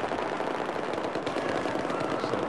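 Rapid gunfire from the video game Battlefield 4 crackles in a dense, continuous burst of shots, loud and close, with no talking.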